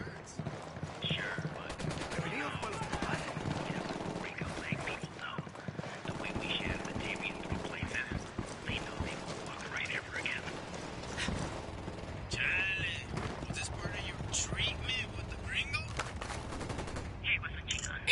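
Shots crack out in rapid bursts during a firefight in the video game Ghost Recon Wildlands, with voices calling out over the shooting and hoofbeat-like clatter mixed in.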